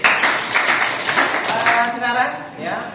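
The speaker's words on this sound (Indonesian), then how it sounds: "Aplaus untuk Mas Rofi" Applause from students in a classroom for a classmate named Rofi, a dense patter of hand claps lasting a few seconds and fading toward the end, with voices mixed in.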